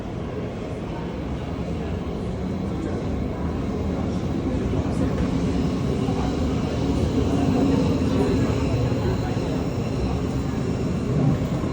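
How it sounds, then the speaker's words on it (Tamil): A continuous heavy rumble and rattle of a subway train rolling past, growing slightly louder toward the end, with no distinct voices. "இந்த சைடு பார்த்தீங்கன்னா சப்வே ட்ரெயின் போகுது"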